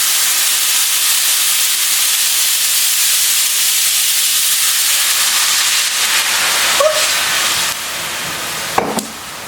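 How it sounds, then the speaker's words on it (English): White wine hits a hot pan of browning chicken with a steady, close, bright sizzling hiss throughout, softening near the end with a couple of brief clinks. "And then we're going to add a cup and a half of white wine."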